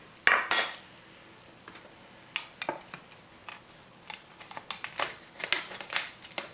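Pizza being pried loose from a worn non-stick metal pan, a string of sharp metallic scrapes and clinks, irregular and close, with quiet gaps between them.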